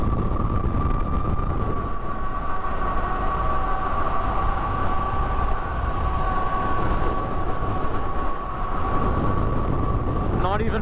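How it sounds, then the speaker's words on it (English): An 80 mph electric scooter costing $10,000, ridden uphill at full throttle, gives a steady high whine over constant wind rush and road roar, loud and continuous throughout with no voices. "Even full throttle, 65 miles an hour uphill."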